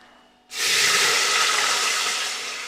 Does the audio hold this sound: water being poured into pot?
yes